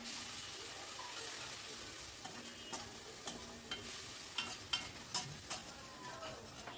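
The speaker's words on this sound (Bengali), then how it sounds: "সামান্য একটু জল দিয়ে মশলাটাকে ভালো করে কষিয়ে নেব।" Spice masala with cumin powder and chili powder, loosened with a little water, sautéing in a pan, giving a steady faint sizzle broken by several soft scraping stirs near the end.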